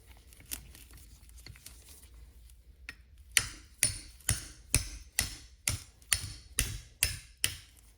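Metal socket hammered against a brake caliper bushing on a front caliper of a Toyota AW11 to tap it out: after a few scattered light ticks, about nine sharp, evenly spaced hammer taps ring out close and loud with no talk.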